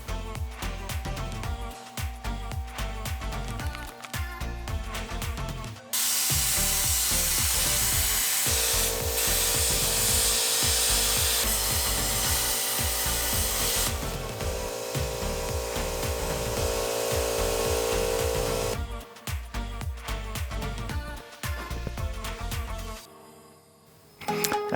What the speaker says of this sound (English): got out my flat disc, got the grinder ready, and went to town just grinding the remaining excess from the brackets